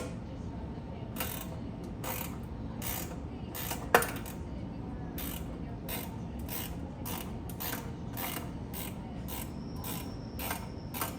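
A socket wrench ratchets on a bike with a quick run of regular clicks, fairly close, one sharper metallic tick among them and a low mechanical hum underneath.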